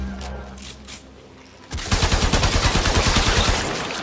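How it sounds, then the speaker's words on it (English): Rapid automatic weapon fire at an alien hive in Warframe, a steady burst of repeated shots starting partway through after a quieter stretch of game ambience, loud and close. "Destroy it with weapon fire"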